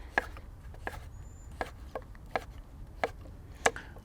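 A kitchen knife cuts a vegetable into larger slices on a board: a handful of crisp, close cuts at an uneven, unhurried pace against a quiet background, with no talking.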